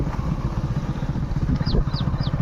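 A small tractor runs in a village cotton field, its engine holding a steady, close chugging drone throughout, with a few brief bird chirps above it.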